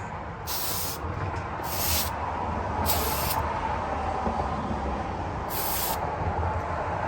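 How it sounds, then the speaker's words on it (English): Four sharp hissing bursts from a spray gun spraying activator for hydrographics, each lasting about half a second, separated by pauses over a steady background hum. "Now we're going to go ahead and start spraying."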